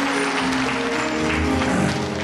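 Audience applause fills a hall at a fiftieth-anniversary celebration of a church ministry, a steady dense clatter of clapping lasting a couple of seconds with a faint voice underneath.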